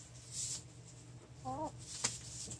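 A hen named Blanca in a chicken coop giving a short, faint cluck over a low background hum, with a sharper click shortly after.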